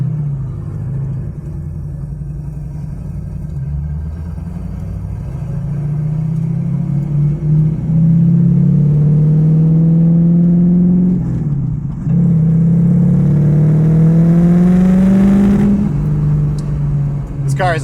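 A 1967 Ford Mustang with a modified small-block Ford 302 V8 rumbles close by, its deep engine note rising and falling through several revs and gear changes, with a person talking over it.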